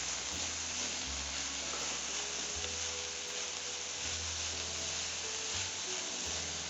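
Amaranth greens stems cook in a pan, giving a soft, steady sizzle under a constant low hum, close and even throughout with no talk.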